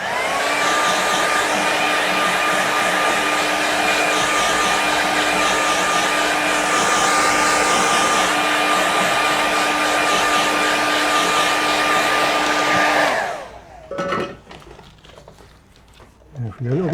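A hair dryer blowing on a watercolour painting of a Scottish Highlands landscape taped flat to plywood on an easel, with a steady loud whirring roar that runs continuously, then cuts off abruptly before a brief quiet with faint handling sounds.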